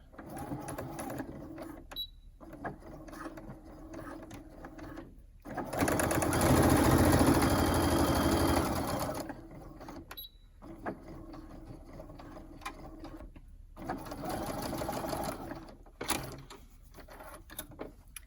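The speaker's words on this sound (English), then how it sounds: "you're going to sew that seam down" A domestic sewing machine stitching a seam on a fabric face mask, its motor whirring in several runs, one long steady burst in the middle and shorter bursts around it, with quiet handling noises in the gaps.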